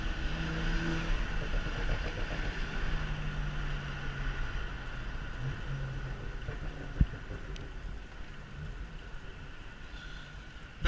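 BMW 335is E92 with DCT gearbox driving off, a continuous engine drone with shifting tones under wind and road noise, fairly quiet and steady, with a single sharp click partway through.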